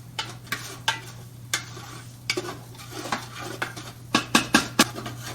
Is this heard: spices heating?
yes